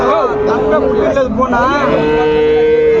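A Jersey calf moos loudly and close by in one long, drawn-out call at a cattle market, with faint background voices.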